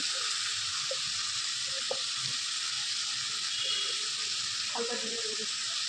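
Bottle gourd pieces with salt, turmeric and cumin powder fry in a pan for lau ghonto, giving a steady, loud, even sizzling hiss with occasional stirring knocks and a faint voice in the background.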